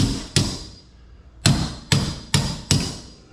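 A hammer drives a nail into wood during furnace repair work where drywall will go: five sharp, close blows, one alone and then four in a quick, steady series.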